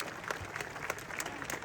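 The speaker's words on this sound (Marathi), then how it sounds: "टाळ्या करा दोघांसाठी" Crowd applause rises at a traditional kushti wrestling bout in Lohgaon, Pune, steady dense clapping from a large audience filling the short moment without a break.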